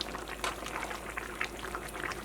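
Coconut milk is poured into a mixer grinder jar over ground ingredients for a Kerala-style chicken curry, giving a soft, continuous liquid trickle at low volume with no voices.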